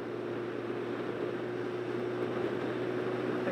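A 1998 Suzuki GSX750W four-cylinder motorcycle engine idles with a steady, even hum at constant revs through a loud exhaust, with a low tonal drone and faint mechanical whine, no talking.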